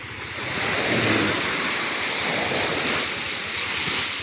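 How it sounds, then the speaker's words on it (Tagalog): Strong sea waves surge and break steadily on the shore at Samal Island, a loud continuous roar of surf mixed with wind buffeting the microphone, with no voices heard. "Lakas ng alon."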